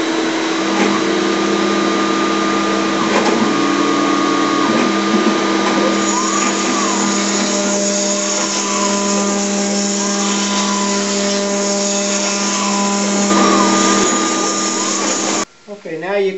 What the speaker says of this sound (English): after changing to a straight quarter inch cutter bit and re-zeroing the Z-axis, we're going to go ahead and cut the